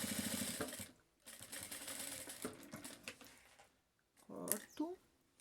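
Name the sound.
sewing machine stitching seam on phone wallet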